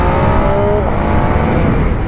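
A sport motorcycle engine held at full throttle, a loud, close and continuous high-revving roar with a brief rising whine partway through, with no voices over it.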